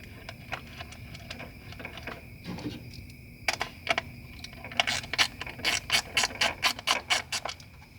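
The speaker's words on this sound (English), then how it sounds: "Press it in, and then screw in the T20 that they supplied." A small T20 Torx screw is driven in with a ratcheting screwdriver while installing a car intake, giving soft clicks that turn into a fast, regular run of sharp ticks.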